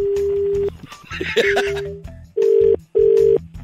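Telephone dialing and dial tones on a phone call: steady tone bursts, keypad beeps and a brief stretch of chatter with laughter in between, close and clear.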